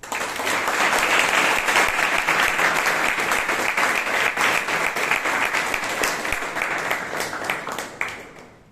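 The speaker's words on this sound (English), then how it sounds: "let us together warmly welcome all our guests with a huge thunderous applause" Warm, sustained audience applause fills a Toastmasters meeting in Bangalore, a dense wash of many hands clapping that holds steady for several seconds before tapering off.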